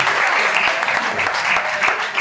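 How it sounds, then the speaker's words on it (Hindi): An audience claps loudly and steadily for a man called on stage at a certificate and awards event, a thick continuous patter of many hands with no talk over it. "Abir के लिए जोरदार तालियां होनी चाहिए।"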